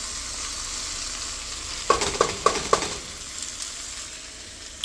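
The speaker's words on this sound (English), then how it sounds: "let's stir this up really quick" Chickpea pasta stirred in a hot pan, a short burst of scraping, clattering spoon strokes over a steady frying sizzle, close and clear with no talking.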